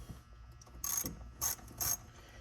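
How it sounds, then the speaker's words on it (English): A 10mm socket ratchet loosening a ground bolt inside a third-generation Toyota Tacoma, three short bursts of rapid clicking separated by brief pauses, close and alone. "Then grab your 10mm socket again, put that back on. Loosen up this bolt here for this ground."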